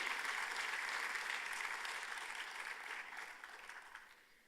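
An audience at a closing ceremony applauds, dense clapping that is loud at first and gradually fades away.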